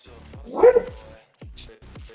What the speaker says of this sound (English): That was a very loud bark.